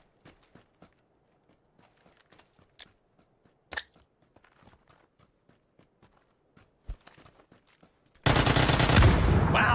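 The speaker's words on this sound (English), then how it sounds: "I got him with the Uzi before the nade" Uzi submachine gun fire in PUBG, sharp bursts and single shots popping at varying distances, followed by a sudden loud, sustained blast at the end.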